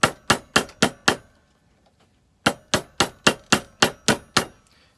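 Metal fork tine loops are struck with a hammer on a vise, landing as sharp, ringing blows: five quick evenly spaced hits, a pause, then about nine more in steady rhythm, close and loud with no talk.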